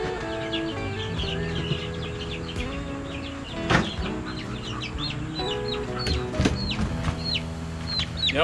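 Hens clucking on a homestead, a busy, close chorus of repeated short calls and chatter overlapping throughout with a few louder squawks.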